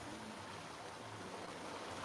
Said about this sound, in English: Now that waterfall is falling through a hole above you.